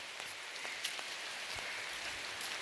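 Steady rain falls outside near a temple, a dense even patter of drops on surfaces with occasional louder drips, continuous and fairly close with no voices.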